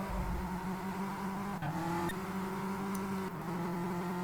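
Race cars in a racing video game lap the Assen circuit, their engines droning steadily side by side at high revs, with brief gear-shift dips and a faint skid-like squeal over the continuous roar.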